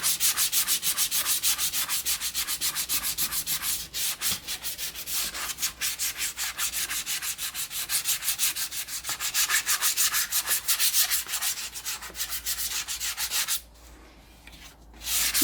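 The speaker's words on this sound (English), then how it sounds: "You can actually hear the difference when you're rubbing over it between where you've sanded and where you haven't." Sandpaper rubbed over gessoed MDF board in fast, steady back-and-forth strokes, a continuous dry, close scratching that briefly eases near the end.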